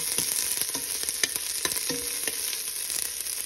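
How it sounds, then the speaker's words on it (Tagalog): Onion, garlic and ginger sizzle and fry steadily in a hot pan for a Filipino coconut-milk tilapia dish, with scattered stirring clicks and scrapes over a continuous bright hiss, close and fairly loud with no talk. "Ngayon nag-isa natin yung sibuyas, bawang at saka luya"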